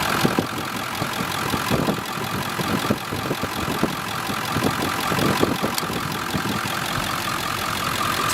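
A 2000 Ford F250 XLT with a 7.3 Powerstroke diesel and six-speed manual idles close by, a steady clattering knock running evenly throughout with no voices.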